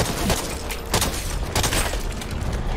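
Gunfire in the Back 4 Blood shooter game, a loud rapid barrage of shots with sharp bursts about every half second over a constant roar of action.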